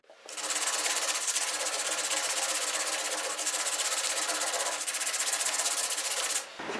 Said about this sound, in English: Try to use some sandpaper here to see the highs and lows.